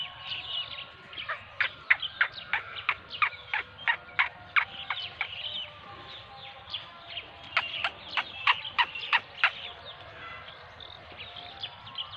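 A black francolin calls in a village, with rapid bursts of sharp, ringing notes in two strong runs, fairly close and loud over quiet rural background noise.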